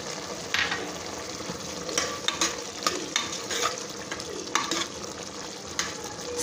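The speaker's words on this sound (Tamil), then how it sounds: "புளி தண்ணி கொதிச்சிருச்சு." Tamarind water with added pepper and cumin simmers in a pot for a Tamil kalani kulambu, giving a steady, fairly loud bubbling sizzle with occasional stirring scrapes and no voices.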